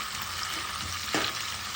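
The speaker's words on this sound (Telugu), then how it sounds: "ఎర్రగడ్డ పీసెస్ కూడా అందులోకి వేసుకొని రోస్ట్ చేసుకుంటూ" Onion pieces and bay leaf roast in a hot pan, giving a steady close sizzle and frying hiss throughout, with a brief stirring scrape near the middle and no talk.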